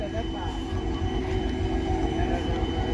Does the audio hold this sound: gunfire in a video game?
no